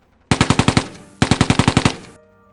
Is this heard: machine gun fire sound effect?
yes